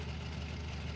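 Engine of an old 1988 Nissan pickup with a glass pack exhaust idling in BeamNG.drive, a low, steady, rumbling drone held close and unchanging for the whole moment.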